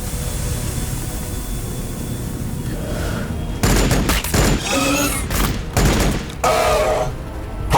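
Gunfire in the Warhammer 40k Battlesector video game, erupting after a rumbling start into loud bursts of rapid shots and booms in uneven volleys.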